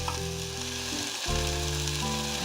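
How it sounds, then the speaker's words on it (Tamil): Onions sautéing in a pan for arachuvitta sambar, with a loud, steady, close sizzle that holds throughout, a brief dip midway and a faint tonal hum underneath. "இப்போ வெங்காயத்தை நல்லா வதக்கணும்."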